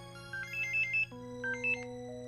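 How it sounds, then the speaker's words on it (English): A phone ringtone in a visual novel game plays a bright, repeating electronic melody in two short phrases over a steady background hum, with no talking. "I seem to have a phone call."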